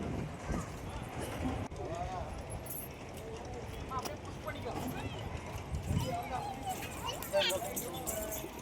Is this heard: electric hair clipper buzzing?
no